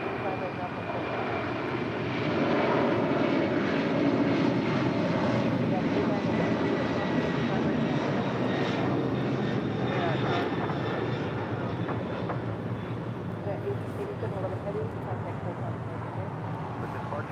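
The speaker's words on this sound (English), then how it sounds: "Delta Airlines Flight 898 coming in from Atlanta, Georgia, in the 757-300" A Delta Airlines Boeing 757-300 jet, arriving from Atlanta, lands at LAX. A broad, steady roar holds for about seventeen seconds, swelling a little after the first couple of seconds and then sustaining, with some voice faintly present beneath.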